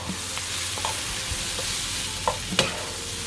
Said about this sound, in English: Just throwing in the mushrooms.